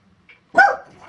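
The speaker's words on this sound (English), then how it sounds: "There go my dogs." Dogs barking indoors in a home craft workspace, one loud sharp bark burst with a short trailing yelp, fairly close, after near silence.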